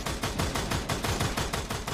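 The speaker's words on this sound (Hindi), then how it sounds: "देखें एक बार फिर से M60 का प्रहार करते हुए" Rapid bursts of M60 machine-gun fire in a Free Fire esports grand final match, a fast, even rhythm of shots repeating about eight times a second, sustained and fairly quiet.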